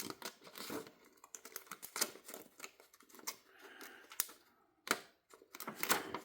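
Snipping and crunching from the scissors of a SOG PowerPint multitool making a longer cut, a quick irregular series of close, sharp clicks and crinkly cuts with brief pauses.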